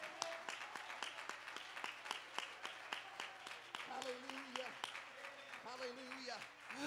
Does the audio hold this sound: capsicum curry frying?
no